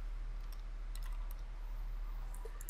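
A computer keyboard clicks in short bursts of typing, light and close, with quiet gaps between keystroke clusters and no voice.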